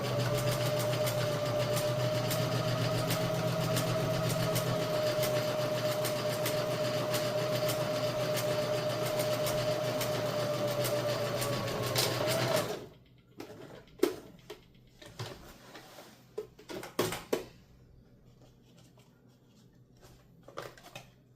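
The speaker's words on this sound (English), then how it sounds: "sew straight across, needle down, foot up," Domestic sewing machine running steadily as it stitches a straight seam across a fabric tote bag, a continuous close motor whir that stops abruptly, followed by quiet handling clicks and fabric rustles.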